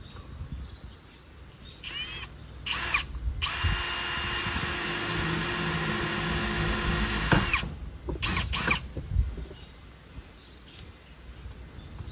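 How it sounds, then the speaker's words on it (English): A power drill whirs in short bursts, then runs steadily for several seconds before stopping, with birds chirping faintly in the background. "I'm just going to drill a couple of holes"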